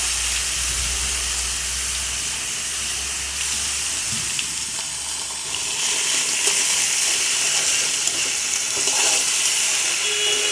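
Chopped elephant foot yam meets a hot pan already holding curry leaves, giving a loud, continuous bright sizzle and hiss that swells slightly midway and carries on steadily to the end.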